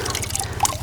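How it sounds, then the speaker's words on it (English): A tomato plant's root ball dipped into a bucket of water, a short close gurgle and trickle of liquid with a soft bubbling sound, brief and moderately loud. "I'll dip it in this bucket of water here just to make sure it's nice and hydrated"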